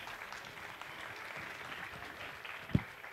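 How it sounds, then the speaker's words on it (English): Soft, even applause from a concert audience at the Yamini 2016 Hindustani bansuri evening welcomes guest Pandit Hari ji. It is steady, somewhat distant clapping with one sharp nearby knock near the end. "Can we have a huge round of applause for him?"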